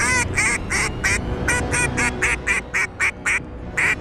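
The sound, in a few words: duck call blown, imitating duck quacks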